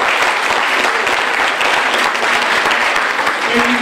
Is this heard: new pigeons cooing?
no